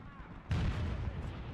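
A tank cannon in a video game fires at a Challenger 2 tank: a single heavy, booming shot after a quiet stretch, trailing into a rumbling decay, with a voice talking faintly beneath.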